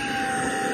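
A Tineco iLoop S10 cordless vacuum cleaner running, a steady close whine with a constant motor hum and no talking over a brief stretch.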